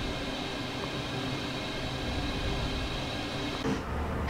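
A BR 110 electric locomotive running on the Rhein-Ruhr line in Train Sim World 3 gives off a steady, even rumble of rolling wheels and motor hum, with a brief shift near the end and no talk.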